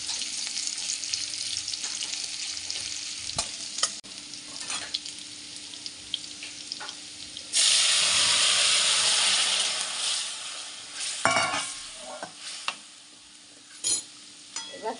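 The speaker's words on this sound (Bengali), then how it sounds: "লাউ শাকে রাঁধুনি ফোড়ন দেব আর রসুন" Radhuni spice and garlic sizzle in hot oil as a tempering for bottle-gourd greens. There is light crackling and a few utensil knocks, then a loud hissing burst that gradually settles back into a softer fry with occasional clinks.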